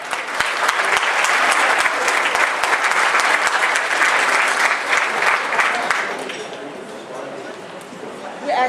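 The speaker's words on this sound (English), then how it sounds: "Let's give the Lord a hand clap." An audience at a community council breakfast bursts into sustained applause, many hands clapping loudly and densely before it thins out and fades, with a voice speaking over it near the end.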